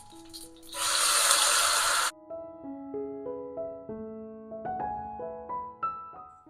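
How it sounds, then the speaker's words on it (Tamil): Water pours into a cooking pot of sambar for about a second, a loud rushing gush, followed by gentle background music tones with no talking. "தேவையான அளவு தண்ணியும் விட்டுப்போம்."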